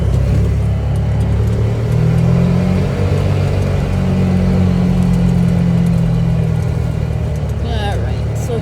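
A side-by-side UTV rolls along a road past a trailer on a farm, its mid-pitched engine droning steadily and close throughout, with a brief rise in revs and no break in the motor noise.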